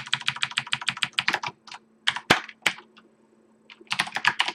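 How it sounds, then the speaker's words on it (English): Fast typing on a clacky mechanical computer keyboard during coding, rapid bursts of sharp close clicks with a louder clack in the middle, a short pause, then another quick run of keystrokes. "sorry for the clacky keyboard, but it makes me code harder"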